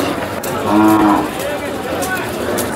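A cow lets out a loud, close moo lasting about a second at a cattle market, followed by quieter lowing and background noise.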